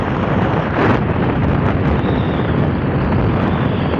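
Strong wind buffets the microphone outdoors during a car test drive, a loud, continuous roaring rumble that lasts throughout, with a brief heavier gust near the start.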